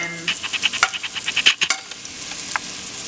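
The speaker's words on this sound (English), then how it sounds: "She's sizzling." Rapid scraping and clinking of a utensil against a pan over a light sizzle of 1776-style sailor rations cooking, busy at first and then tapering off.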